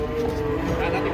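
Cattle moo just after being unloaded from a truck on the way to market, a jumbo cow lowing close by in a single sustained call over steady background noise.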